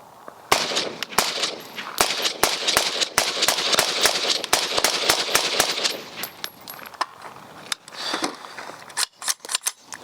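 A Radical Defense MK1 PDW fitted with an XPD suppressor and a QVO two-stage trigger fires a long string of sharp, evenly spaced shots close by, followed by a few slower scattered shots at the end.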